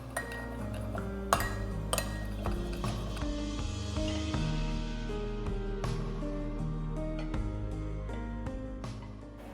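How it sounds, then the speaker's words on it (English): Spoon clinking against a glass or ceramic bowl while soy sauce and black rice vinegar are stirred together, a rapid series of light, close metallic taps over faint background music. "Mix."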